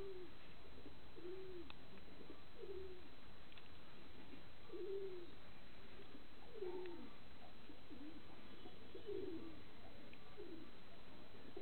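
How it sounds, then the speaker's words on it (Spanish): A pigeon coos in a home loft, a series of soft, low rolling coos repeated at steady intervals, fairly close, with no talk over them. "¿Qué estás loca la paloma,"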